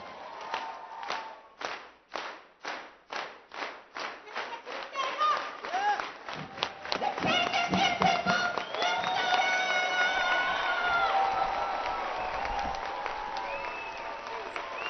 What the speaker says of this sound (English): So everybody, can I get a clap?